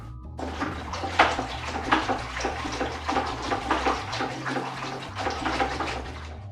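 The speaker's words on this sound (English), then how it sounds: "You will swish the beater vigorously back and forth until the fibers mix with the water" A wooden pitchfork-style beater swishes vigorously back and forth through water and paper fibers in a washi papermaking vat, making rhythmic, sloshing splashes close by with no talking.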